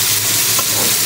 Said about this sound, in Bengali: মশলা বসাই করছি